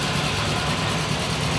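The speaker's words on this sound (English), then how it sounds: "So next one is Mike Nagger on a W9 Farmall." The engine of a Farmall W9 tractor rumbles steadily at low speed in a county fair parade, a continuous close chugging drone with broad background noise and no audible talk.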